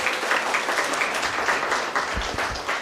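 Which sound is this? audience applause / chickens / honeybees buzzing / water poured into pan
audience applause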